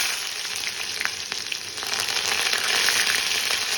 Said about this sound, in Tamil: இப்போ வெங்காயம் போடுறேன்